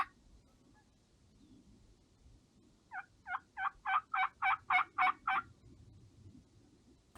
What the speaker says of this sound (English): They would gobble